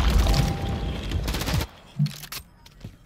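Rapid gunfire in Call of Duty, a dense loud burst of shots for about a second and a half, then a few scattered single reports and thuds trailing off more quietly.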